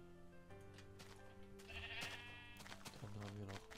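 Minecraft sheep bleat several times in a row, clear nasal cries that overlap and rise in the middle, played over quiet game background sounds.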